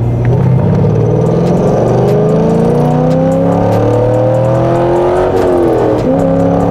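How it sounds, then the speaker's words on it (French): A hybrid car accelerates, its engine note rising in steady pitch from inside the cabin, loud and continuous with a low rumble, then dipping briefly near the end before climbing again. "On va essayer cette petite accélération."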